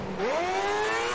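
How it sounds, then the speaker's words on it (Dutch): Loud Formula 1 race car engine in the F1 2010 video game, a single high whining tone that climbs sharply as the car accelerates, then holds a steady sustained pitch. "De motoren zijn hier erg luid."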